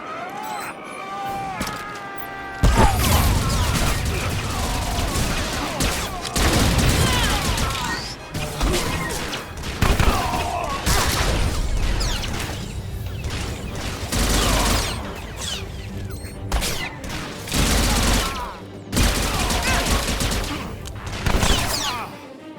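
Blaster fire rapidly traded during a prison break on Belsavis in Star Wars: The Old Republic, with dense volleys of sharp zapping shots and crashes, nearly continuous with brief gaps.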